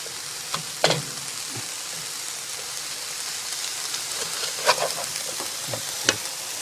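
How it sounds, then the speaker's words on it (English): Pasta with cream and tuna stirred in a pan, a soft continuous sizzle with a few sharper scrapes and clinks of the utensil against the pan, close and fairly quiet. "I'm going to stir this again"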